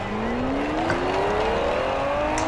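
Car drifting in the Forza Horizon racing game on Xbox 360, a steady engine whine rising in pitch over continuous tire noise, loud and close throughout with no talking.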